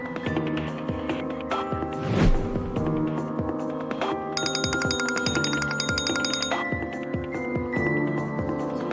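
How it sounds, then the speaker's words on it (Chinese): A telephone rings on and on unanswered, repeated bell-like electronic trills sounding beneath a soft musical bed, with a brighter ringing pattern joining midway and continuing for several seconds. "少爷的电话一直没人接。"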